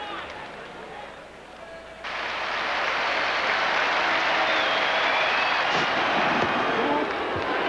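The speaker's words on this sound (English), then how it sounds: "this great crowd rise to the master batsman" A cricket crowd at a World Series Cricket match against Australia bursts into sustained applause for Viv Richards reaching his century. The clapping swells suddenly to a loud, steady roar of hands, with a commentator's voice beneath.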